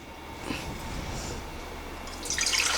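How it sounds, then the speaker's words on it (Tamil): Water poured into a pressure cooker while making aravana payasam, a low trickling and splashing that grows brighter and louder toward the end, heard alone without talk. "இப்போ குக்கர் வச்சு அதில் நம்ம கொஞ்சம் தண்ணி விட்ருவோம்"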